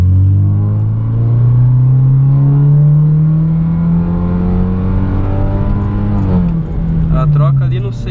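A 2016 BMW 320i Sport with a 2.0 engine, Stage 2 tuned with a Cayenne filter and aftermarket pipe, revs hard under acceleration, its loud close engine tone climbing steadily before a gear change and a renewed pull.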